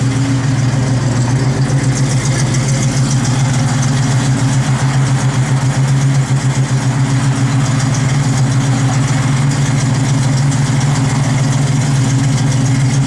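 Big block V8 in a 1971 Chevrolet Nova idles cold with a steady, loud, even rumble that holds without change throughout.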